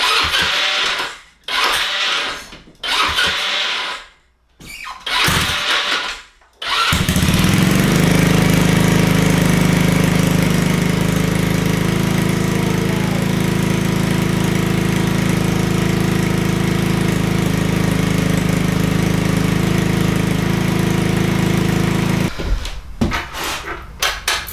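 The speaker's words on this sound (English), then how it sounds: "It takes like a couple tries for it to start." Honda Ruckus scooter with a GY6 engine, after sitting unused, cranks in several short failed bursts, then catches and runs steadily loud and close for about fifteen seconds before shutting off.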